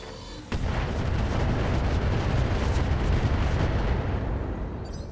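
Heavy weapon fire from a mech in the BattleTech game RogueTech: a sudden onset into a sustained, loud, dense roaring barrage lasting several seconds, no speech.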